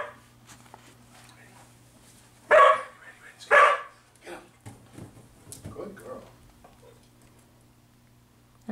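Two sharp, close dog barks in quick succession, followed by softer shuffling noises and a few quiet sounds against a low hum.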